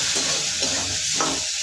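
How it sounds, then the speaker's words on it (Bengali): Raw onion and green chili hitting hot oil in a pan, a bright close sizzle with a few scrapes of stirring breaking the steady frying hiss, no talking. "হালকা ভেজে নেবো পেঁয়াজটা"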